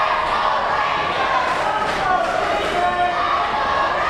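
Wrestling crowd at a pro wrestling tag match cheering and roaring steadily throughout, a dense continuous wash of many voices with a few louder swells, loud and close.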